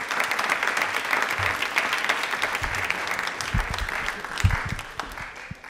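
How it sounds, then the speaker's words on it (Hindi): Audience applause at a tribal pride day (Janjatiya Gaurav Diwas) quiz programme, a steady wash of many hands clapping throughout, fairly close and loud, with a few low thumps mixed in. "तालियां प्लीज़ एक बार जोरदार बजाएं।"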